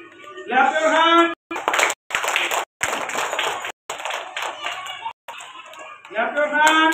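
Hand clapping from an audience at a school award announcement comes in several bursts separated by short silent cuts, fairly loud and near, with voices talking over parts of it.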